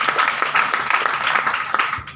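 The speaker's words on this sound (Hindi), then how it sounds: "सुनील भैया के लिए एक बार जोरदार ताली होना चाहिए" An audience claps for Sunil, a brisk patter of many hands with no voices, moderately loud and even, fading out at the end.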